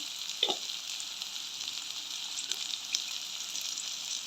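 Fennel seeds hit hot cooking oil with a crackling sizzle, a brief pop at the start and then steady, fairly quiet frying hiss punctuated by small spits.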